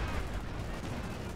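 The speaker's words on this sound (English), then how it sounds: "Brumbar opening fire." A Brummbär assault gun firing in the Company of Heroes 2 strategy game, a heavy low boom with rumbling battle noise filling the short stretch, moderately loud and dense.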